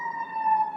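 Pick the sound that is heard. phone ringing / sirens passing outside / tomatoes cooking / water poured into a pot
sirens passing outside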